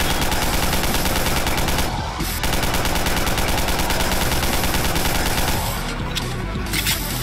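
Dense, continuous gunfire from the video game Garry's Mod, rapid automatic bursts rattling nearly without pause, loud and close.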